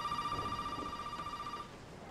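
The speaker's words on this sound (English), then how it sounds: "Gonna pick up the phone here." Electronic telephone ring in Resident Evil 7, a steady high tone repeating for most of the moment before it cuts off, with a low rumbling ambience underneath.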